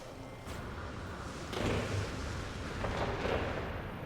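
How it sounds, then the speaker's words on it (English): Fireworks burst in the space game No Man's Sky, a few dull booms at about 0.5, 1.5 and 3 seconds rumbling over a steady background drone, moderately loud with no talk. "Celebrate the fireworks, people joining us."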